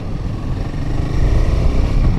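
Royal Enfield Himalayan motorcycle engine while riding: a steady, loud, low rumble that builds slightly, with no talking.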